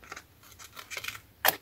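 Scissors snip through paper at a slant while a flipbook is made from scrap pieces, a few soft close cuts followed by one sharper, louder snip near the end.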